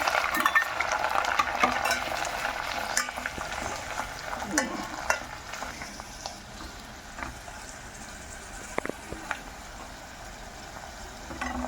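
Chopped onions fry in hot oil with green chillies and curry leaves for a soya granule and ridge gourd curry, a steady sizzle broken by scraping stirs and clinks of a spoon against the pan.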